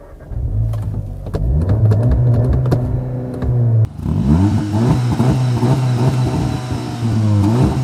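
A Cupra Ateca SUV engine revs up hard several times, a loud, close roar climbing in pitch, dropping briefly, then surging again in repeated blips.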